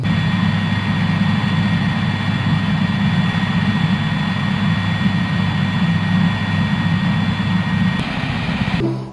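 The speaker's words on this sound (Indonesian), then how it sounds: "Wow, ini namanya helikopter." A helicopter engine in the video game Jurassic World Evolution 2 drones steadily with a low, constant hum, cutting off abruptly near the end.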